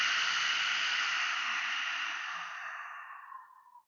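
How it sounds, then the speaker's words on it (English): A lion's breath in yoga: one long, forceful open-mouth exhale that rushes out as a breathy hiss, close and strong at first, then tapering off to silence over about four seconds. "Like a lion, open mouth exhale,"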